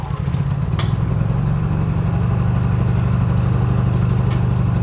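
A Honda EU3000is inverter generator runs with its choke fully engaged, giving a loud, steady, close engine drone with a low throbbing hum and no pause.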